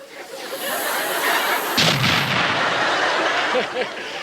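A comedy bomb explosion sound effect from the Muppet Show: a loud, broad roaring blast with a sharp boom hitting partway through and rumbling on to the end.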